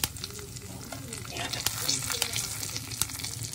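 Food frying in ghee in a pan for a meal maker curry, a dense continuous sizzle with crackles and stirring scrapes, close, with a voice talking faintly underneath.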